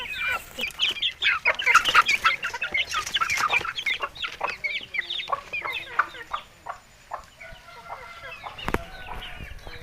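A flock of naked neck chickens clucking and chattering nearby, busy at first and gradually thinning out, with a sharp knock near the end.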